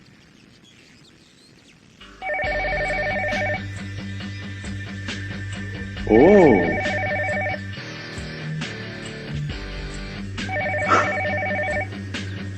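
A telephone rings in a dramatic indoor scene, with repeated electronic ring bursts separated by short pauses over a background music score, and a brief voiced exclamation partway through.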